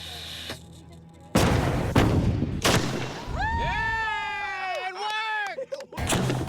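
Cannon loaded with an 18.5-pound cannonball fires several loud, close booms in quick succession, followed by a rising, wavering whine and clattering, with people reacting outdoors.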